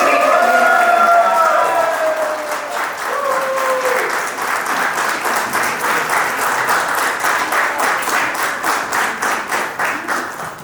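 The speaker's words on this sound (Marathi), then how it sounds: "सगळ्यात जास्त टाळ्या पडलेल्या आहेत तुमच्या परफॉर्मन्सवर." Audience applauding after a stage performance at a birthday event, loud sustained clapping from a crowd building into a dense rhythmic patter, with a voice briefly heard at the start.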